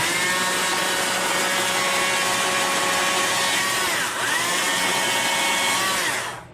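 A steady, loud motorized whine of a feather shaver carving wood during chainsaw carving of an owl, continuous with a brief dip partway through before cutting off at the end.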